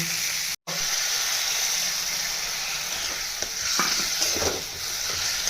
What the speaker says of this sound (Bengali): দিয়ে অল্প জল দিয়ে দিয়ে নাড়ব।